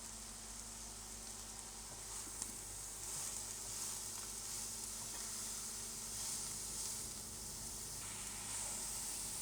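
Young papaya pempek mixture being stirred in a pan, a quiet continuous sizzle and hiss with soft scraping stirs and a faint knock, no talking.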